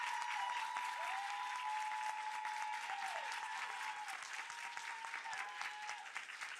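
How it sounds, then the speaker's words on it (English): Steady applause from an audience at a panel event fills the room, sustained and moderately distant, with a faint voice-like tone threading through but no clear speech. "that applause counts as the introduction"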